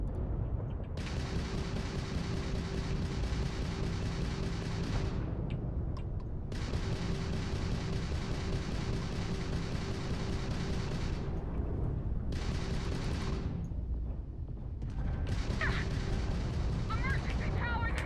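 Missiles fire in a Starfield space battle, heavy rumbling bursts of several seconds each, separated by short gaps, with a low droning hum beneath throughout.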